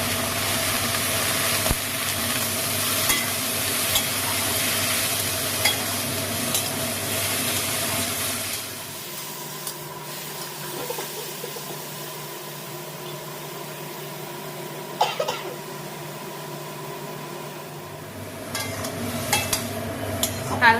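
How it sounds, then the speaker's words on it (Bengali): Chilli paste frying in a pan for a prawn curry, a continuous steamy hiss that is fairly loud at first, then drops abruptly to a quieter simmer with occasional stirring clicks. "হালকা ভেজে নিয়েছি"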